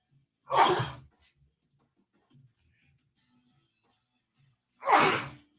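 Two sharp sneezes from a host during a live talk show broadcast, one near the start and another about four seconds later, loud and close, with near silence between them.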